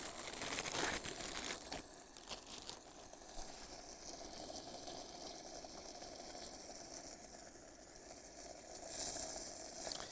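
Steady crackling sizzle of food frying in a pan, continuous and fairly close, with a few sharper pops early on and no talking.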